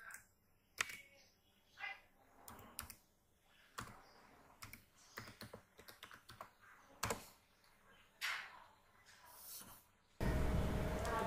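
Scattered bursts of keystrokes on a computer keyboard while logging in to a Windows 11 machine, close and quiet, with pauses between clusters and a sudden steady hiss at the very end.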